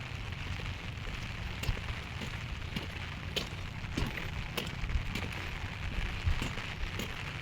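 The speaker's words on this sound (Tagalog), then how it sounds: "Nakakatamad pag ganito na umuulan." Steady rain falls all around, forming a continuous close hiss with scattered drip-like ticks and no voices over it.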